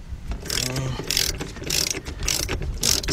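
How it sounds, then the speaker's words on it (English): Ratchet wrench with a 7/8 deep socket tightening a nut on a 1974 Chevy Corvette Stingray steering column, giving repeated bursts of close mechanical clicking with a brief low murmur early on. "Let's get our nut on it. Get our 7/8 socket"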